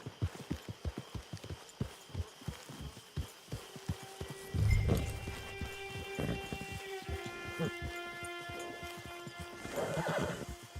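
Horse hooves clip-clop in a steady rhythm, then a loud whinny rings out mid-clip, with more neighing and movement afterward, all in the Red Dead Online video game.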